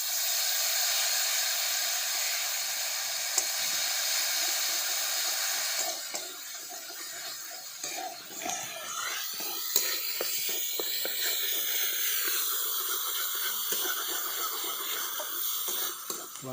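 Cashew, ginger, tomato and green chilli paste hitting a hot pan, a steady loud hiss that turns into crackling, spattering sizzle partway through and keeps going, with no talking.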